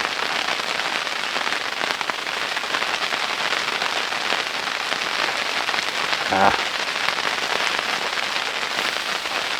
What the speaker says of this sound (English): Listen to that rain out there. Listen to it come on down.